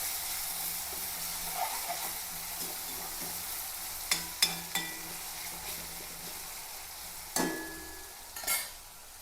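Garlic, ginger and onion sauté in a pan with a continuous close sizzle, punctuated by a few stirring scrapes and light clinks of a spoon against the pan.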